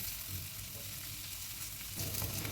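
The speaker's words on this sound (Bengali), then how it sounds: "এবার পেঁয়াজটাকে হালকা লাল লাল করে ভেজে নেব" Sliced onions fry in a pan with a pinch of salt, giving a soft, steady sizzle close by. A stirring burst near the end makes the sound briefly louder.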